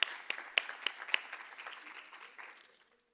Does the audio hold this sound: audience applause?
yes